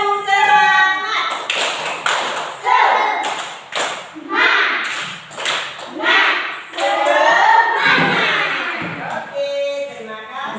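A classroom of children performs the 'tepuk semangat' spirit clap together, rhythmic bursts of clapping and tapping mixed with children's chanting voices throughout.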